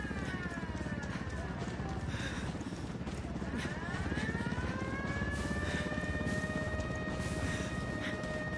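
An armed helicopter in the video game Ghost Recon Wildlands flies overhead with a steady, fast rotor chop and rising turbine whine. The sound is continuous and moderately loud, and voices come faintly through it.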